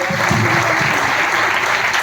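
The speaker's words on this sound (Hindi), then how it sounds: "एक जोरदार ताली चाहिए उनके लिए" A crowd claps steadily and loudly, a dense wash of applause that carries on for a couple of seconds without letting up.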